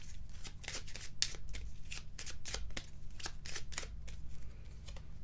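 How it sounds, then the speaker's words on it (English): A deck of Angel Whispers oracle cards is shuffled close up, a rapid, steady run of crisp riffling flicks that keeps going throughout, quiet and alone. "Let's get you an Angel Whispers card to wrap up your reading."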